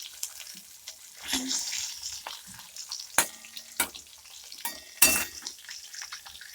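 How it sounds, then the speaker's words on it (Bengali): Fish fries in a pan with a soft sizzle, punctuated by clinks and scrapes of a utensil against the cookware, several sharp knocks standing out. "আগে ভেজে নিই।"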